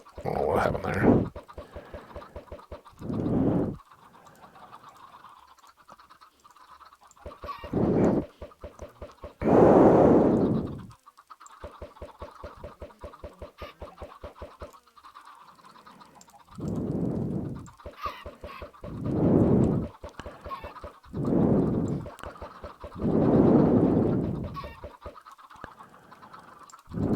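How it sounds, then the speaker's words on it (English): Minecraft chickens cluck loudly in repeated short bursts, overlapping into a busy chorus, with a fast rhythmic clicking in the background between calls. "So the chickens are always going to be at a pretty high volume"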